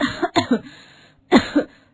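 A person coughs several times in two short clusters, harsh and close, with a pause between them.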